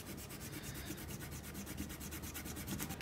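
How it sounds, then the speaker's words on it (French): An eraser rubs steadily over paper, clearing pencil construction lines from a Fortnite Star-Lord emoji drawing, with soft, continuous scrubbing strokes in a quick back-and-forth rhythm, faint and close. "Ok, on peut gommer nos traits de construction."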